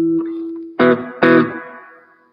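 An electric guitar pushed through distortion for extra grit rings out with a held note, then two loud crunchy chords that sustain and slowly decay in a small attic room.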